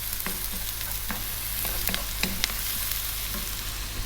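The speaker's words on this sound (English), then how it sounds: "We're now going to add in the tablespoon of ginger garlic paste." Ginger garlic paste fries in a pan for a vegetable masala curry, a continuous close sizzle punctuated by sharp spatula scrapes and taps.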